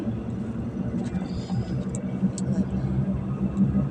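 Oncoming cars pass a moving motorbike on a road near Chanthaburi, their engine rumble and wind noise blending into a steady, close drone with a few faint higher swishes over the bike's own low hum.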